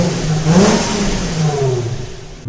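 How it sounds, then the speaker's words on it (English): A car with a VQ engine and stock exhaust revs up and settles back with a smooth, clean exhaust note, loud and close, with no talking. "Especially the stock exhaust, one of the best sounding stock exhausts."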